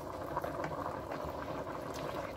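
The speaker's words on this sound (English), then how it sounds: "I turned on my heat, just kind of let that simmer together." A meat sauce simmers in a pan on the heat, with a close, steady bubbling and soft popping that stays even and moderately quiet throughout.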